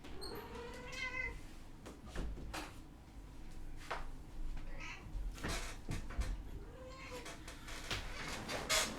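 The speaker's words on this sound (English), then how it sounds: "Oh, there's a cat." A domestic cat meows indoors, giving a few rising, drawn-out calls mixed with thumps and clatters nearby, with faint sounds of a person in the room.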